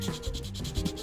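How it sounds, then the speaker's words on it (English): A 3D-printed part being roughed up with 220 grit sandpaper, giving a short, steady dry rasp of back-and-forth strokes close by, with no speech. "I'll just take some 220 grit sandpaper"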